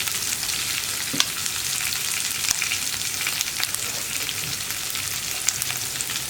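Green chilli, chopped onion and carrot sauté in a pan with a dense, even crackling sizzle throughout, a few faint clicks on top, and no one speaking.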